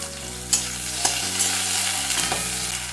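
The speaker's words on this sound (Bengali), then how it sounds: "তেল দিয়ে প্রথমে বেগুনগুলো ভেজে নিচ্ছি খুব বেশি ভাজবো না" Eggplant pieces frying in oil with turmeric, a loud, continuous close-up sizzle broken by a few sharp clacks of a spatula stirring the pan.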